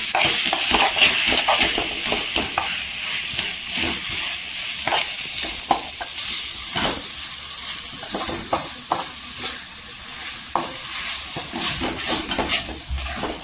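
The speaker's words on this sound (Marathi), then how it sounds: "कांद्या खोबऱ्याचा मसाला टाकल्यावर पण तेलावर परतून घ्यायचा" Onion and coconut masala stir-fried in hot oil in a pan, a steady close sizzle broken by repeated spoon scrapes and stirring clatter, with no voices.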